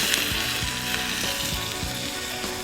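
Ribeye steaks sear on a Drip 'N Griddle pan, making a loud, dense, continuous sizzle with occasional sharp pops and crackles close up.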